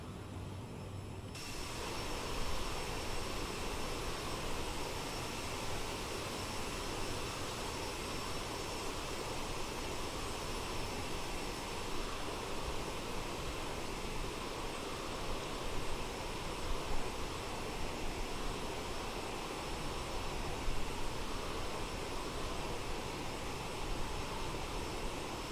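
Jet engines of a CRJ 900 airliner in Microsoft Flight Simulator 2020, a loud continuous roar with broadband rushing noise that holds steady for the whole stretch.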